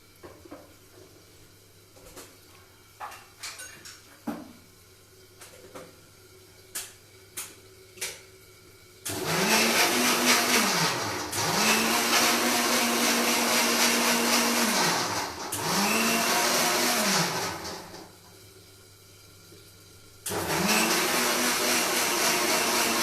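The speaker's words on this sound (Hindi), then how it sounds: "अब मैं अपनी जो छाछ है उसको बस मिक्सी में 2 बार ग्राइंड करूंगी" An electric mixer grinder blending buttermilk whirs loudly in three bursts, each ramping up and winding down, after scattered light clicks and taps.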